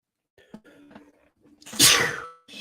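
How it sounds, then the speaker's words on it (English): A single loud, sharp sneeze preceded by a few quiet breathy intakes, close to the listener, with silence around it. "I think I got another sneeze coming."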